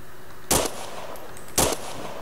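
Two sharp gunshots in the Arma 2 military video game, about a second apart, each a loud crack with a short tail over a steady low background, no talk.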